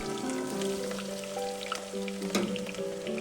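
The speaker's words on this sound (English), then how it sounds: "gently add the onions, garlic, and ginger into the hot oil and let them sauté until fragrant" Onions, garlic and ginger sautéing in hot oil in a saucepan for a sausage stew, a continuous soft sizzle with a few sharp pops, heard beneath a steady tonal background.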